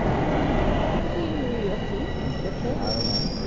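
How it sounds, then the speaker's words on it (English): Southbound subway train heard close and loud, a steady rumble of wheels on rails with a high metallic wheel squeal rising toward the end, no talk over it. "It's a southbound train."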